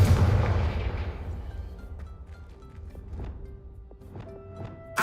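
Bombarda and Confringo spell blasts go off in Hogwarts Legacy, a heavy booming impact at the start decaying into a long rumbling tail, followed by scattered lighter cracks and effects.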